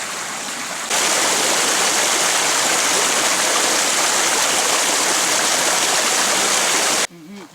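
Water rushes loudly and steadily through a culvert partly held back by rocks, a dense roaring flow that starts suddenly and cuts off near the end.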